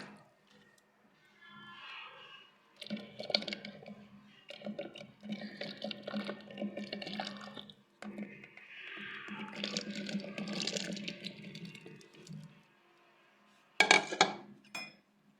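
Black olives dropped into a glass pickling jar of water, lemon juice and vinegar brine: soft, repeated clinks and splashy rattles over several seconds, fairly quiet and close, ending with a brighter clatter.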